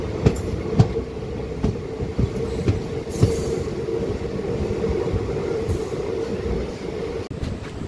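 A DEMU local train pulls out of Nacharam railway station with a steady rumbling roar, heard from on board, punctuated by sharp rhythmic clanks and clicks of wheels over rail joints, loud and close with no talking.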